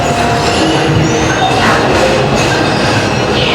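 Walt Disney World Railroad steam train at Magic Kingdom running steadily, a continuous loud rumble of wheels and rail noise with faint squeals, no talking.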